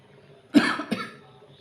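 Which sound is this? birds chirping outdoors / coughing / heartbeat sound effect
coughing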